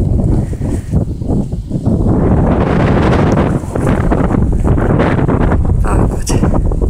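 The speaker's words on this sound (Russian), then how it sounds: "Ветер, конечно, очень холодный, очень сильный." Strong, very cold mountain wind buffets the microphone, a heavy roaring rumble that rises and falls in loud gusts throughout.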